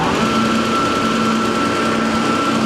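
Steady mechanical hum and whir of a TIMESAVER heavy-duty wet deburring and finishing machine with its head running, a continuous loud drone with a faint tonal whine, no talking.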